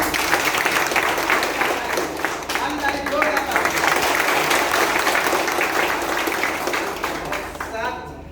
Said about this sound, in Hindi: आप लोग के लिए जोरदार तालियां